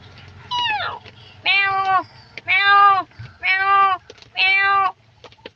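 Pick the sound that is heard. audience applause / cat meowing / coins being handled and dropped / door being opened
cat meowing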